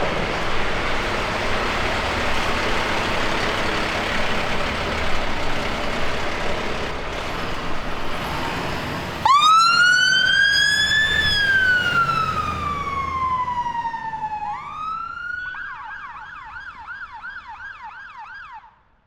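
A fire truck siren starts up as the truck pulls out of the station, first a long rising and falling wail, then a fast warbling yelp, loud and close over a rumbling engine and road noise.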